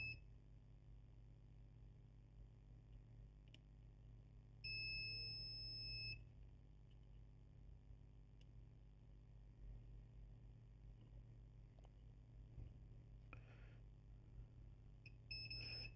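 Short electronic beeps from a multimeter diode test on a Hisense 42-inch TV IR remote control sound a few times, one held for over a second, over a low steady electrical hum with occasional small clicks.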